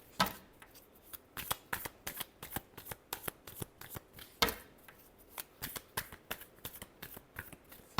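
Tarot cards riffled and shuffled by hand, a quick run of crisp flapping bursts with short pauses between, close and fairly quiet, no voice over it.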